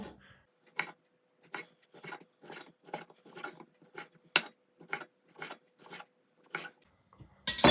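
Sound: knife slicing ham into thin pieces

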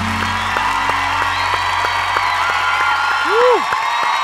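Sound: audience applause

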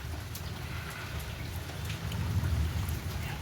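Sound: distant thunder rumbling

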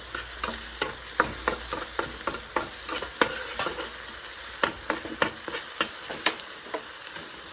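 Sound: sautéing and stirring in a pan for idli upma

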